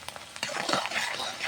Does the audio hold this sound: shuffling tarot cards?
no